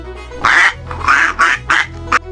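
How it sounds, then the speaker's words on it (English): A duck gives five loud, close quacks in an uneven rhythm over a low steady hum, with no talk. "The duck loves to quack and splash in the water."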